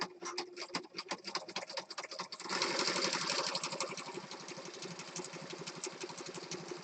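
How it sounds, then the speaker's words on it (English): A sewing machine stitches zigzag with a regular needle and thread in a fast, steady whir of rapid stitches, picking up speed partway through and continuing close and loud. "I'm using a regular sewing machine, regular needle, regular thread"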